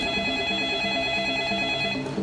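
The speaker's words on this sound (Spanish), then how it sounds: "Fue el sonido del teléfono el que alteró la energía de aquel momento." A telephone bell rings continuously, a bright steady electronic trill that stays loud and unbroken for the whole stretch, heard alone with no voices.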